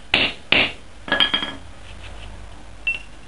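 A tool packs KNO3 and sugar rocket fuel into a tube with two sharp metallic strikes, a quick cluster of lighter clinks, then one faint final tap, all close and dry.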